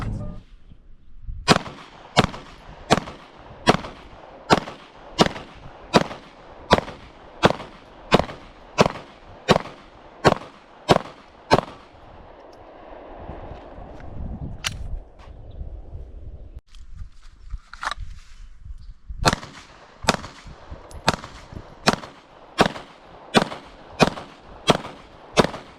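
Handgun shots at a shooting range from a Ruger RXM pistol, loud sharp reports fired in rapid, evenly spaced strings, with a pause mid-sequence before another fast string resumes.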